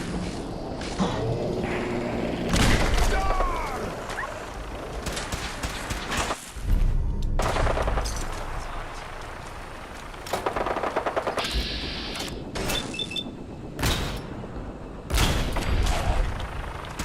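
Gunfire from a Fallout 4 battle among feral ghouls, super mutants, gunners and raiders, with dense machine-gun bursts and single shots rattling almost nonstop, loud and close with some distant pops.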